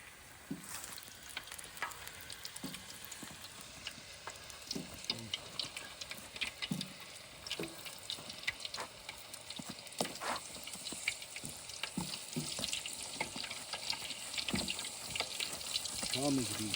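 Oil sizzles and crackles steadily at a deer hunting camp, with occasional stirring clinks and soft scrapes over a continuous frying hiss, close by and moderately loud.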